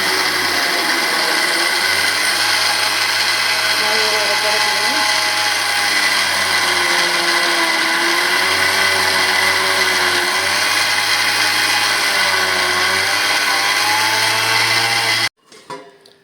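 A kitchen mixer grinder powders raw rice with cumin in a steady, loud whine that runs nonstop for about fifteen seconds and then cuts off abruptly, leaving a brief clatter.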